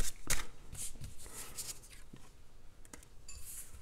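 A deck of playing cards is shuffled by hand in a quiet room, giving a short series of soft riffling and sliding bursts that are close and faint, with no talking.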